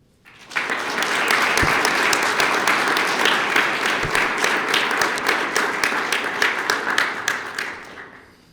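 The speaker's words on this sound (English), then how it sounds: "let's give another round of applause, please" An audience at a police swearing-in ceremony breaks into loud, sustained applause. Dense clapping starts abruptly and holds steady for about eight seconds before cutting off.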